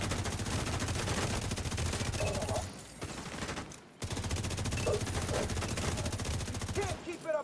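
Rapid video game gunfire rattles in long continuous bursts, loud and dense, broken by a short lull in the middle before the shooting resumes.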